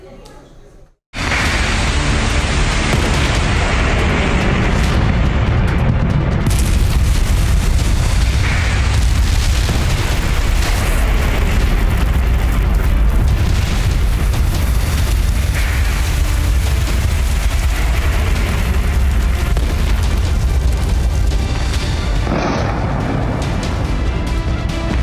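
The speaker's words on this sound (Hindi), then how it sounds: "इजराइल की मिसाइलों का प्रहार, ईरान में हाहाकार।" Israeli missile strikes exploding in Iran make a dense, continuous roar of booms and rumbling that fills the whole span at high loudness, with a voice talking over it.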